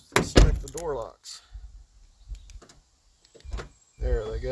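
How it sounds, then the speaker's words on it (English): Honda Ridgeline power door locks cycling, with short mechanical thunks of the lock actuators locking and unlocking, close by, mixed with someone talking in between. "There they go, door locks are working."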